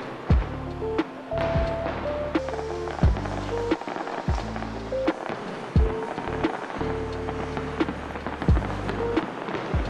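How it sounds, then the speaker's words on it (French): Fireworks go off in a string of sharp booms and cracks, some distant and some closer, over a steady low hum of background noise. "Les feux d'artifice sont pas encore finis"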